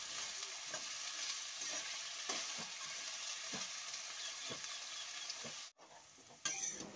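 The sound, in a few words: potatoes frying and being stirred with a spatula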